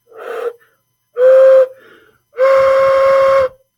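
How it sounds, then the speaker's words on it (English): A handmade ceramic whistle is blown three times up close: a short breathy puff first, then two loud, steady tones, the last one longest, with silence between the blasts. "This is a whistle, clearly shown."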